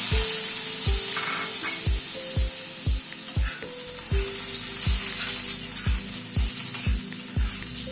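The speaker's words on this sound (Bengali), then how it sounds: "এবার আলুটাকে একটু ভেজে নেব।" Boiled potato cubes fry in a pan with a steady, close sizzle, while a spatula scrapes and stirs in a regular rhythm about twice a second throughout.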